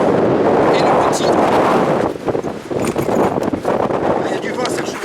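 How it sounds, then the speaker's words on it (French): Gusts of strong wind rumble and buffet an outdoor microphone during a snow chain test, steady and roaring at first, then breaking into choppier, irregular bursts. "Il y a du vent"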